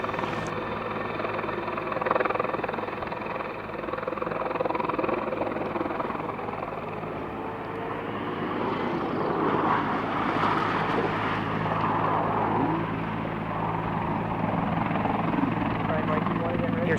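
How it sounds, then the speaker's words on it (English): Steady engine drone with a high-pitched whine from a supercharged Vantage car at speed, heard from inside the cabin at moderate level, with people talking over it. "Your supercharger whine"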